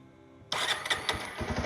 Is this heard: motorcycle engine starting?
yes